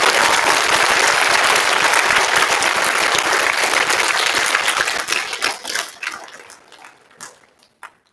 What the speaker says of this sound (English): I would like to do another appropriate round of applause for our band and choir